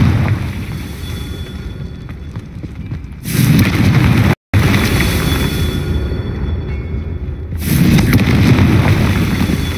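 Confringo spell explosions in the video game Hogwarts Legacy, two heavy booming blasts that swell and roll over a loud continuous game backdrop, with a brief dropout between them.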